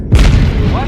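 A 105mm gun fires in a video game, a single heavy boom with a sharp onset followed by a long, loud rumbling tail.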